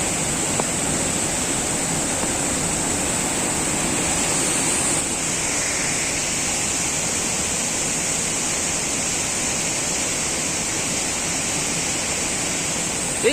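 Fast, heavy stream water rushing during a river crossing in the Konkan countryside, a loud steady roar that stays broad and continuous throughout with no voices.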